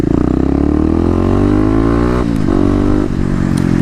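A Kawasaki KLX250 dirt bike being ridden hard, its engine loud and close with a rising buzzing drone that climbs in pitch, then drops sharply at two gear shifts before pulling up again.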